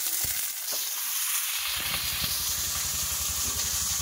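Vegetables tipped into hot oil with browned onions and five-spice seeds give a sharp hiss, then a steady close sizzle with rhythmic stirring knocks against the pan.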